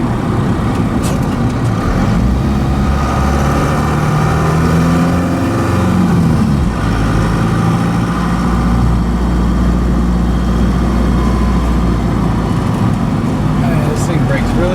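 A Ford F150 pickup fitted with a 4BT Cummins diesel drones loudly while driving, its low engine note climbing and dropping as it shifts through the gears, with people talking over the cab noise.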